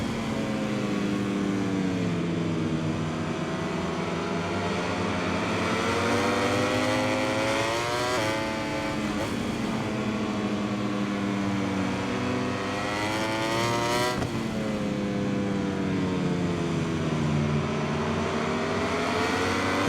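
Ducati MotoGP bike engine in the MotoGP 21 video game, a steady high-pitched racing whine rising and falling through gear changes with no pauses, loud and close throughout, alongside other racing machines.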